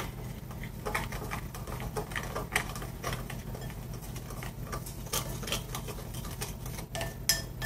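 Spoon stirring measured dry seasonings together in a bowl, rapid light clinking and scraping taps in an irregular rhythm, close and quiet over a low background hum, no talking.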